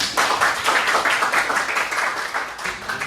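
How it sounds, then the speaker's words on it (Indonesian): Audience clapping at a visual communication design session, a steady dense patter of applause holding evenly through the whole stretch, fairly close and loud with no gaps. "Oke, tepuk tangan ya teman-teman."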